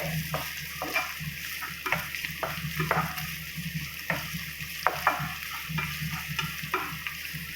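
Finely chopped ginger and garlic fry in oil while being stirred for a gooseberry pickle. A close, steady sizzle is broken by repeated rhythmic scraping strokes of a spoon against the pan, and no one speaks.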